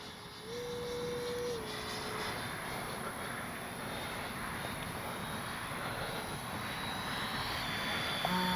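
A small HSDJets J-10 80mm radio-controlled jet flies overhead, its ducted-fan whine holding steady and continuous at moderate distance under a crosswind, with no talking.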